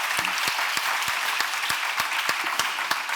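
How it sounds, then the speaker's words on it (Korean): A church congregation applauding during a sermon, with steady clapping that sounds fairly close and includes a run of loud, rhythmic, evenly spaced claps cutting through it. "박수와 영광을 돌리기를 원합니다."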